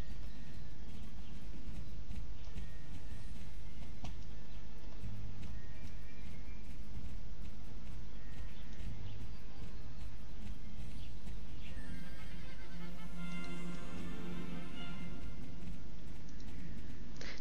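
Horses in the online game Star Stable neigh and whinny while hooves clip-clop along, with a continuous game soundscape of ambient background noise and music running the whole time and no talk heard.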